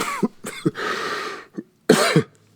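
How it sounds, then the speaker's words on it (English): A man coughs in a string of harsh bursts: two quick coughs, a longer rasping hack, then a pause and a final pair of heavy coughs, close and loud. "He stands back and coughs."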